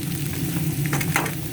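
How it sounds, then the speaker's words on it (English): Fried rice with vegetables and turkey kielbasa sizzles steadily in a pan, a close, continuous frying hiss with a couple of brief scraping stirs near the end. "You hear that sizzle?"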